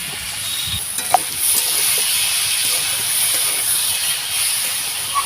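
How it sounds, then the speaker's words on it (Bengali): Gobindobhog rice frying in hot ghee for payesh, giving off a steady bright sizzle and hiss, close and continuous, with a few faint clinks from stirring. "ঘিটা গরম হয়ে গেছে, আমি এবার চালটা একটু দিয়ে ভেজে নেব।"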